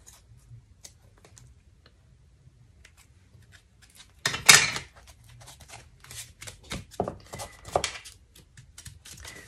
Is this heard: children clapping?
no